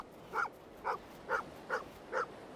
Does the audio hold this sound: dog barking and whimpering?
yes